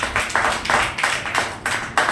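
A church congregation claps loudly in rhythmic bursts of unison hand claps, repeating steadily and close, with no talk.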